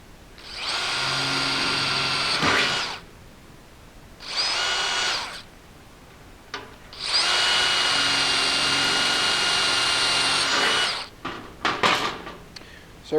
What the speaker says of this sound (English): So we're going to drill all 4 of the feet